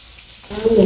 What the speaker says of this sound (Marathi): मसाला तळून घेत आहेत आता मम्मीने त्या.